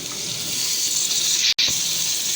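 Tomatoes hit a hot pan in an egg biryani, giving a steady loud hiss of sizzling that is broken by one brief sharp dropout partway through, with no voices.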